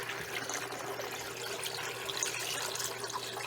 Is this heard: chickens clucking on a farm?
no